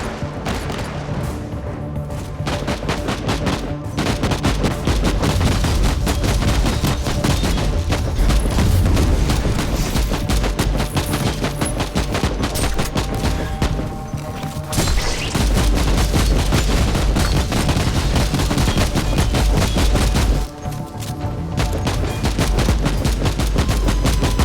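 Deployed turret firing in Warhammer 40,000: Inquisitor – Martyr, a relentless stream of rapid automatic shots with heavy thuds and booms layered in, loud and nearly unbroken, pausing briefly only a few times.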